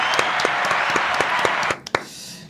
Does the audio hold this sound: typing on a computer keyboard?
no